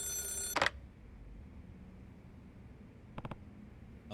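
Telephone ringing in the video game Yakuza 0, a bright electronic ring tone at the start followed by a short burst, then faint background hum and a couple of brief clicks later, quiet overall.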